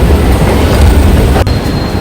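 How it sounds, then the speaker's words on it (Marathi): A train at a station on the Swiss side of the border with France, on the Zurich to Paris route, gives a steady low rumble with a sharp break and a thin high whine toward the end. "आता इथून जी ट्रेन पकडणार ती आपल्याला फ्रान्समध्ये घेऊन जाणार."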